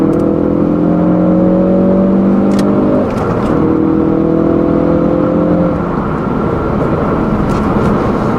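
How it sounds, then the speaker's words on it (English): A 2016 Ford Focus RS accelerates hard in third gear, its loud turbocharged engine note rising steadily, dipping briefly at about three seconds, then climbing again, heard close from inside the cabin. "So speaking of tall gearing, let's do a third gear pull here."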